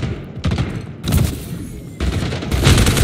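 Submachine gun fire in the Splitgate video game: several short, rapid bursts of shots, each starting abruptly and rattling for about half a second, loud and close, with faint game ambience between bursts.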